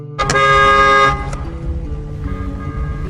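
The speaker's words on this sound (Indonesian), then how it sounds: "membunyikan klakson agar mendengar dari telepon" A loud car horn blares for about a second, followed by a fainter, shorter honk amid low road noise.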